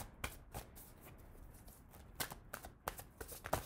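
Tarot cards are shuffled by hand, a quiet run of crisp riffling flicks and soft slaps in an irregular rhythm, heard close and alone.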